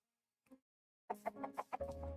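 A single short cluck, then a quick run of Minecraft chicken clucks and squawks ending in a sustained hen call, close and clear.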